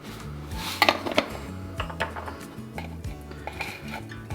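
Flour, salt, baking soda and baking powder mixed in a bowl, with close clinking and scraping of a utensil against the bowl in irregular bursts.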